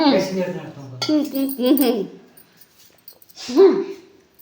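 A dog whines and whimpers in short high bursts close by at a New Year's celebration, with a few light clinks and some background voices.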